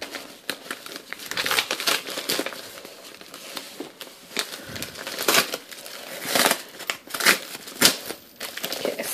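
Scissors cut into the side of a puffy plastic mail package, making close crinkling, rustling and snipping sounds that come in uneven bursts throughout.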